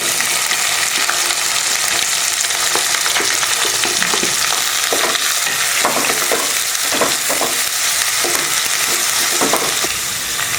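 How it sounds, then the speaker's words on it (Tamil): Onions sizzle steadily in hot oil with fennel seeds, garlic and curry leaves while pepper masala chicken is being cooked. The frying hiss is continuous and close, with occasional scraping stirs in the pan. "வெங்காயம் நல்லா வதங்கட்டும்"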